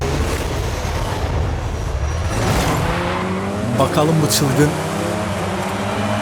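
A BMW Turbo 2002 races in Forza Horizon 5, its engine revving up and down through gears with some tire squeal, loud and close, while someone talks over it.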